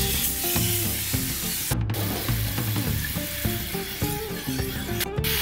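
Teriyaki sauce sizzles and spatters steadily in a frying pan with salmon on lowered heat, a continuous close frying hiss with occasional sharp crackles and faint background tones.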